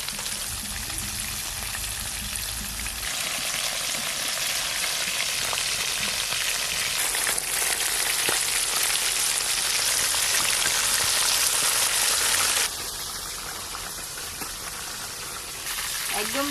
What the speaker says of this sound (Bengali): একদম ফাঁকা তেলে ভেজে নিয়েছি।